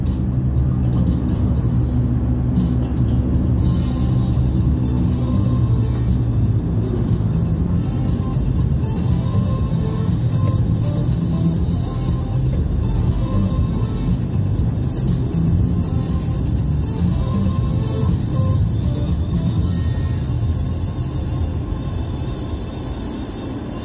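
Car cruising along the Via Expressa in Maceió at about 60 km/h, a steady close engine and road rumble holding constant throughout with no talk.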